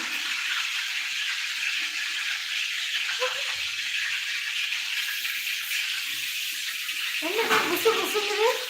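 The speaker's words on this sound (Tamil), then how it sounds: "புசு புசுன்னு தான் சொல்லுது புசு புசுன்னு ஓகே சில்லி ஃப்ரை ஆயிருக்கும்" Chillies fry in a pan on a home kitchen stove, making a steady, loud, broadband hiss and sputter that continues throughout, swelling slightly near the end as faint voices come in.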